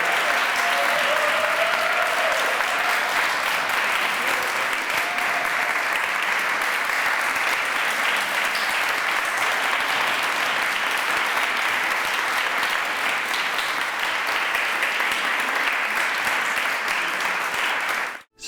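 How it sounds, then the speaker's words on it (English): An audience at a Harvard preaching prize competition gives the finalists sustained, even applause that holds steady for a long stretch before cutting off abruptly at the end. "Please give it another rising applause for these"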